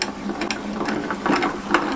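An AccuQuilt fabric die cutter is cranked with a mat on top of two fabric layers, giving a continuous grinding, ratcheting mechanical rumble with soft repeated clicks, close and moderately loud.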